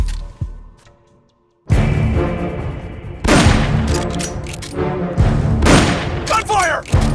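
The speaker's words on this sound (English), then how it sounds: "Gunfire!" Gunfire in the video game Metal Gear Solid Peace Walker, loud and close, opens after a short near-silence with heavy booming shots and continues in dense bursts, layered with in-game music and sound effects.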